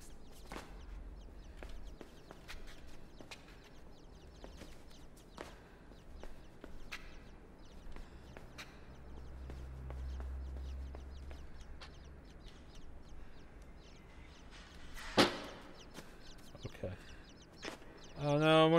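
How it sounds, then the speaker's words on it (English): Chickens cluck and scratch about in the video game Inside, a quiet scatter of soft clucks and small ticks over low ambience, ending with a sudden flurry of wingbeats. "Oh no, more chicken."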